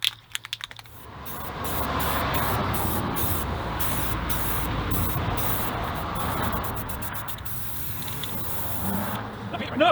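Spray paint hisses steadily and loudly for most of the stretch while truck wheel rims on a 1980 Ford F-350 service rig are coated, with a few short clicks at the start before the spraying begins.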